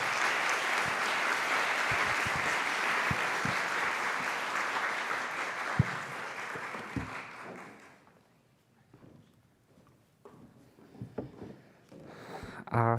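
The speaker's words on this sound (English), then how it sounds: "please give a round of applause to Dr. Jenny Lee" An audience applauds Dr. Jenny Lee after her talk at a UCSD symposium, a dense, steady round of clapping that runs about eight seconds before fading to scattered taps and a quiet room.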